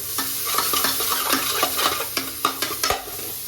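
Ginger garlic paste frying with browned onions in a pan, a steady broadband sizzle broken by regular sharp scrapes and clicks of a spoon stirring, close and fairly loud with no voices.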